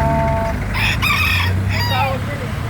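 A native Kanawayon rooster gives a loud, close crow lasting a couple of seconds, with a few softer clucks and faint people talking in the background.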